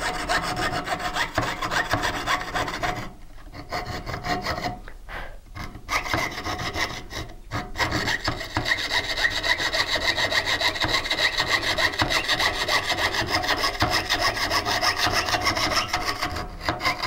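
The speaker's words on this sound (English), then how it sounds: "making sure I'm sawing the whole time." Continuous rasping hand-saw strokes cutting through sheet metal, steady and close with a few brief pauses, no talking.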